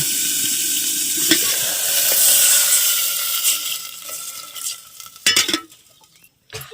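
Water hits a hot pan of tempering with dried red chillies, bursting into a loud hissing sizzle that slowly fades, then a few clanks of a utensil against the pan near the end.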